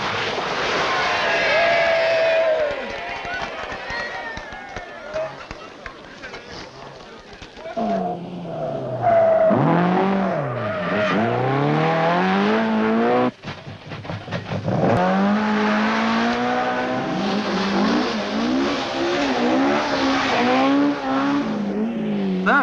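Rally cars at speed on the 1975 RAC Rally, engines revving hard and sweeping past with rising and falling pitch, loud and nearly continuous, with bursts of acceleration.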